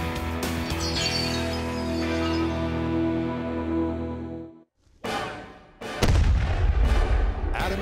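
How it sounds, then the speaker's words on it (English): A period-accurate cannon loaded with improvised ammunition fires with a heavy outdoor boom, following a sustained rumbling stretch and a brief drop to near silence, then a loud blast with debris crackle and lingering roar. "They have a period-accurate cannon, a pirate pig for cannon fodder, and a range of mythical movie-inspired ammunition."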